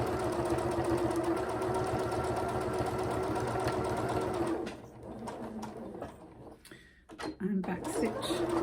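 Sewing machine stitching fabric advent calendar pockets, a fast steady mechanical whirr for several seconds that stops abruptly, followed by quieter handling clicks and a short voice.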